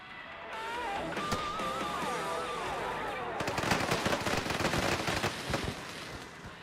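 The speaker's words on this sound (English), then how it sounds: "Let's watch the fireworks." Fireworks in the game Planet Coaster 2: a rising whistle of launching shells gives way to dense, rapid crackling bursts, loud and continuous for several seconds with no talk over them.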